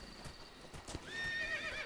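Horse hooves clip-clop in a few scattered steps, then a loud whinny rings out in a video game, Metal Gear Solid Delta: Snake Eater, with no talk over it.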